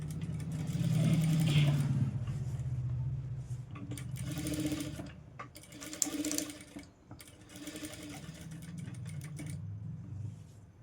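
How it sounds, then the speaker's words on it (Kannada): Sewing machine stitching the neck of a blouse, a steady close mechanical whirr with rapid needle chatter that runs throughout, easing and picking up again in short bursts. "ಇವಾಗ ನೆಕ್ಕನ್ನು ಸ್ಟಿಚ್ ಮಾಡೋಣ"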